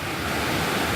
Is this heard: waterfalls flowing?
yes